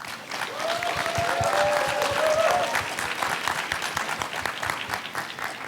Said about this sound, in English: please join me congratulating the grand finalists with a round of applause